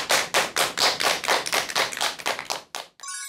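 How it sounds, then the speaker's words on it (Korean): A lecture audience claps in unison, about a dozen loud, evenly spaced bursts of applause in quick rhythm, cut off abruptly at the end. "큰 박수 부탁드립니다."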